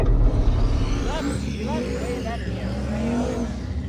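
A race car engine runs steadily and loudly through a heavy continuous roar with rising and falling pitch, while people talk excitedly over it.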